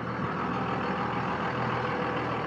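A one-owner Cummins 24V six-speed diesel pickup truck drives off down the road with a steady, rumbling diesel engine drone, continuous and fairly loud with no talk.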